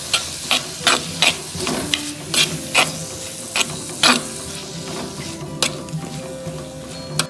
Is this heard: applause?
no